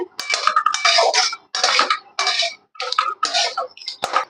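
Fish roe curry stirred in a pan over low heat, with repeated close scraping and clattering strokes of a utensil against metal in short uneven bursts.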